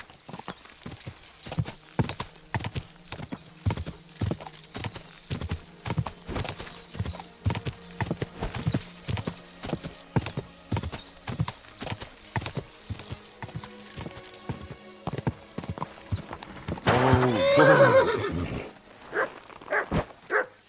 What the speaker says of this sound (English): Gosh, this horse is so slow.